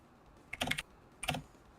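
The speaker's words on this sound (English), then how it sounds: "I'm sorry if now my keyboard sounds a bit. It's because I'm writing down stuff." Two short bursts of computer keyboard typing, close and fairly quiet, a few keystrokes in each cluster with a pause between them and no talking.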